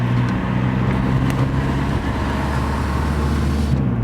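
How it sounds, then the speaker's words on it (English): Inside a cheap Ford Focus on a first test drive, a steady engine drone and low road rumble hold at an even level, loud and continuous. "So let's go on a quick first drive."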